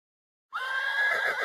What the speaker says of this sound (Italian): Ormai è un must il nitrile del cavallo